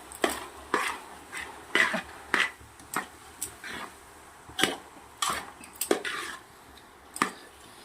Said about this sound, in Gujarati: સરસ મિક્સ કરી દેવાનું છે જાજુ છે એટલે આપણે આવી રીતે તપેલાને પકડી અને ફેરવી દઈશું